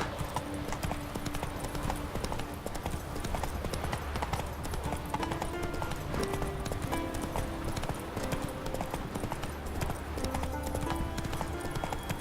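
Roach the horse trots in The Witcher 3, a steady fast clip-clop of hooves throughout, with a faint game voice and background tones underneath.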